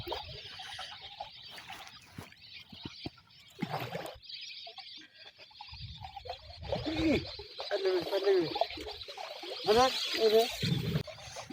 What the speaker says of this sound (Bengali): বিলে অসংখ্য পাখি, পাখির কিচিমিচির শব্দ